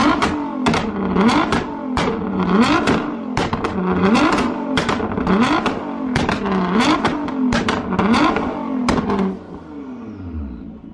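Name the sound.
Nissan GTR R35 with X Fi exhaust revving, spitting flames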